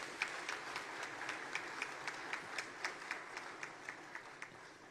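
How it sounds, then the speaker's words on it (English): Audience applause for special guests at a regional consultative dialogue on small-scale mining, heard as a steady spread of claps with a clear clapping rhythm, moderately loud and without speech over it. "A round of applause to our special guests."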